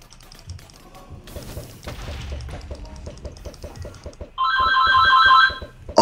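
Telephone bell ringing loudly for about a second, a clear electronic ring cutting over game sounds of thumps and steady rhythmic tapping during a Tekkit Minecraft session.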